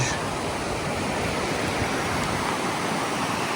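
River water rushes steadily through a small rocky gorge at Sioux Falls on the prairie, a dense, loud, unbroken roar with no voices.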